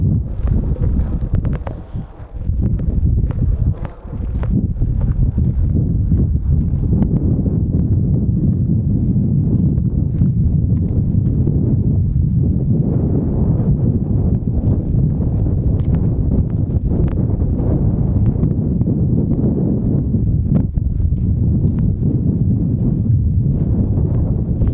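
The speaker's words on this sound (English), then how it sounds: "It is very windy." Strong wind buffets a microphone outdoors beside a roadside near a B29 plane crash site, producing a loud, continuous low rumble that roars steadily with only a brief dip near the start.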